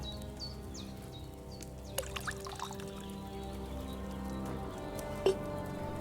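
Wine poured into a cauldron in Kingdom Come Deliverance II makes a steady, soft liquid pour that runs for several seconds over a quiet ambient background, with faint brief chirps in the distance.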